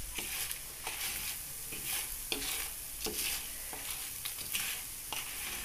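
Unpeeled garlic cloves sizzle in a pan while being stirred, with repeated scraping strokes roughly every half second to second over a constant close frying hiss, no voices.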